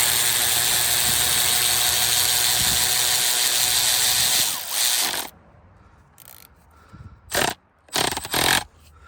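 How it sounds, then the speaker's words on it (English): A ratchet tightens the alternator belt tensioner on a Mazda RX-8, heard close up as a dense, continuous run of mechanical clatter for several seconds, then a quiet pause broken by a few short, loud bursts of ratcheting. "So let's see what happens when I tighten it."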